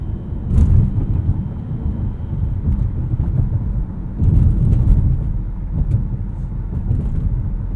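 Inside a 2019 Mazda CX-5 Signature Turbo on a rough, broken road, a loud, deep cabin rumble carries on without a break, with heavier thuds as the tyres hit bumps.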